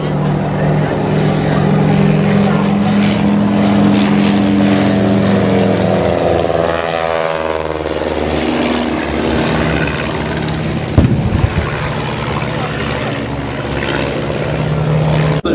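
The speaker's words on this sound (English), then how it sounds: "Leading them in now, from left to right, the BE-2C, followed by the two Fokker DR-1s" WWI replica biplanes, a BE-2C followed by two Fokker DR-1 triplanes, drone past at an air display, their propeller engines making a loud, steady roar that shifts in pitch as they pass, with a commentator's voice faint underneath.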